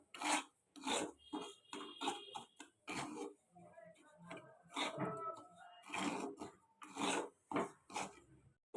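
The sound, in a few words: stirring semolina with water while cooking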